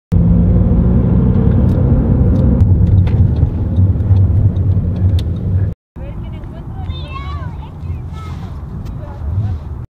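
A car drives at night toward a Madrid skyline viewpoint, with a steady loud engine and road rumble filling the cabin. It stops abruptly for a moment, then the rumble resumes under faint higher squeaks.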